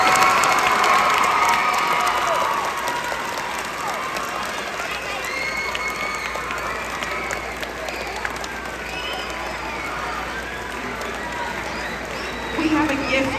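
A crowd at an elementary school move-up assembly applauds and cheers for a staff member, a dense wash of clapping and children's shouts that is loudest at the start and slowly thins out.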